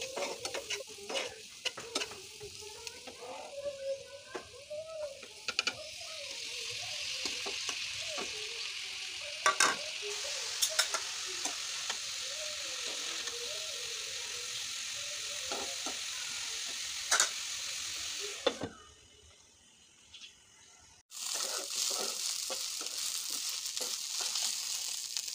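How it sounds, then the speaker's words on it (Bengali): Bitter gourd and potato fry is stirred in a pan, with a soft steady sizzle and scraping spoon strokes throughout, a brief quieter gap near the end, then the sizzle resumes. "তারপর করলা আর আলু ভাজিটুকু দিয়ে নাড়াচাড়া করে ঢেকে দিবেন"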